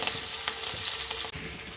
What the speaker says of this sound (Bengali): আমি তো এখানে মাছ তেলের ভিতরে দিয়ে নিলাম